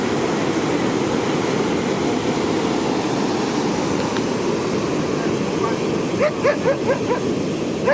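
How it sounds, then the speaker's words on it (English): Dogs barking on Calangute beach in Goa, India: a quick series of several barks breaks out near the end over a steady, loud roar of surf and wind. "Crazy dogs."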